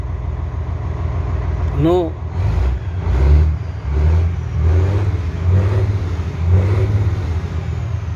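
Detroit 11-liter diesel engine in a truck running steadily, a low continuous rumble that swells and eases in rhythm, close by, with someone talking briefly over it.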